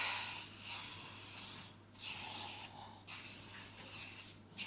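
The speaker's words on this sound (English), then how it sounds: "first I will spray the baking tray with spray and cook" Cooking spray hisses onto a baking tray in three bursts with short pauses between, close by and steady, a sharp airy hiss with no voices.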